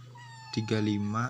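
A cat lets out a loud, drawn-out meow, close by, rising then falling over about a second after a low steady hum.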